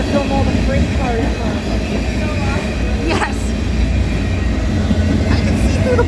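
A freight train rolls past nearby with a loud, continuous rumble and wheel noise, a brief squeal cutting through, while a person exclaims over it.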